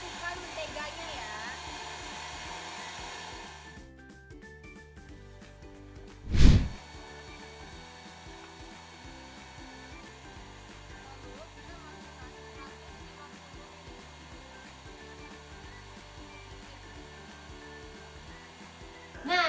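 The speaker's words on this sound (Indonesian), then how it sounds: "Nah, jadi kita bakal mixer adonannya sampai kalis elastis." An electric mixer kneads bread dough of high-protein flour, yeast, brown sugar and butter, running with a steady whirring drone and a brief loud knock partway through, close and continuous.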